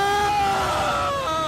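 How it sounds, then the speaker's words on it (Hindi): Anguished screams and wailing cries from people caught in a glacier burst flood in Chamoli, with high, wavering voices rising and falling continuously and close up for the whole moment. "सुनाई दे रही है तो सिर्फ और सिर्फ चीख और पुकार"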